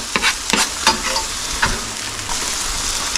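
Okra and Brussels sprouts with ginger sizzle steadily in a hot pan, broken by several sharp scraping knocks of a utensil stirring through the vegetables early on, then a continuous loud frying hiss.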